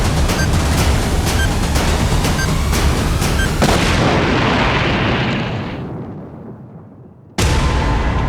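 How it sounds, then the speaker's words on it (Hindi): A bomb blast in a house unfolds as a loud, roaring rumble that fades away over several seconds before a second abrupt burst, with no voices. "वहाँ एक घर में बॉम्ब विस्फोट हुआ है"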